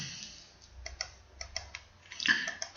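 Quiet, close clicks from a computer mouse used in software come in an irregular scatter of light taps, a dozen or so, with faint room hum between them.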